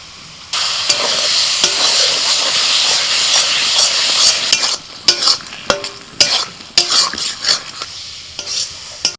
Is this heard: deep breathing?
no